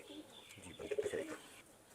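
A fine broad-chested pigeon gives a brief burst of low throaty cooing at mid-distance, rising in the middle and fading out, with faint background rustle.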